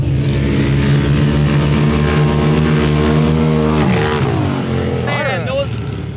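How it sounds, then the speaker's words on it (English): Loud engines roar past one after another on a drag strip, a sustained revving drone that sweeps down in pitch as cars blast by close, with a brief pause and shouting near the end. "the sound of those cars going by"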